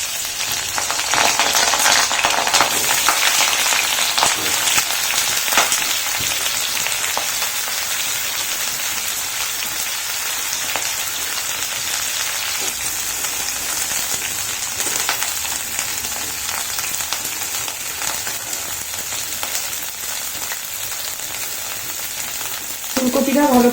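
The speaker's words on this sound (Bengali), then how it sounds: "এবার ফুলকপিগুলো ভেজে নেব।" Cauliflower florets fry in hot oil in a wok for a no-onion, no-garlic cauliflower paneer curry, giving a steady, dense sizzle that holds throughout with no talking.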